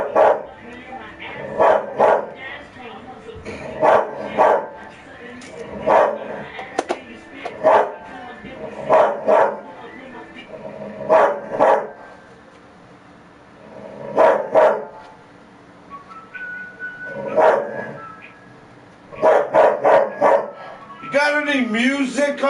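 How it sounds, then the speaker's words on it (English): A dog barks in repeated bursts of several quick barks, loud and close, with short pauses between volleys that continue throughout, against an indoor setting during a live game broadcast. "The dog won't stop barking."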